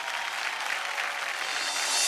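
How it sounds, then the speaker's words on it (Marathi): A studio audience claps loudly and steadily on a Marathi television game show, a dense wash of hand claps that holds even and swells slightly at the end, with no talk over it. "एकदा जोरदार टाळ्या होऊन जाऊ दे"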